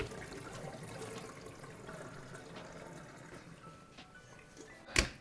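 Vinegar pouring and trickling off pickled eggplants as they are tipped into a container, a soft steady liquid flow throughout, ending with a brief sharp knock near the end.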